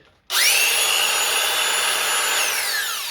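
A repaired Makita DSS611 cordless brushed circular saw spins up sharply after a short quiet moment, then runs at a steady high-pitched whine, loud and close, beginning to wind down at the end.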